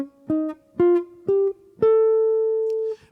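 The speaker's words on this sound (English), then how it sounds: "A whole tone scale would sound like this." Guitar plays a whole tone scale in four plucked notes, each stepping up evenly, the last one ringing out long and clear with no talking.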